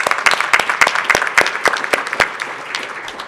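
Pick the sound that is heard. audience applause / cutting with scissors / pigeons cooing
audience applause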